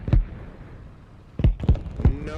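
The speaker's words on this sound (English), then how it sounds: "Do you know what these explosions are from?" Explosions in Arma Reforger: a single sharp boom followed, after a pause, by a quick cluster of three more thudding blasts, fairly close and loud.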